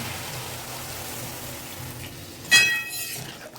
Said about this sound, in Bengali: এবার জলটা ঢেলে দিচ্ছি।